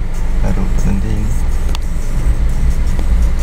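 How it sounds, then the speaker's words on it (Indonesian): An automatic Honda CR-V drives along a road in West Java near a railway crossing. Its steady, loud low engine and road rumble fill the cabin while someone talks over it. "Saya bawa mobil Honda CR-V."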